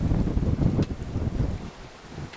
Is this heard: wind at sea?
yes